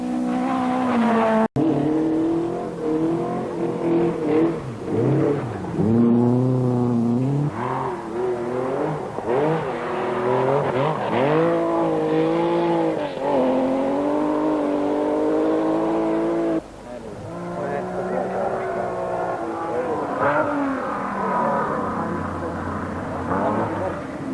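A Volvo rally car, number 29, at the 1973 Jyväskylä rally in Finland roars loudly, its engine note climbing and dropping through repeated revs and gear changes, with a voice talking over it.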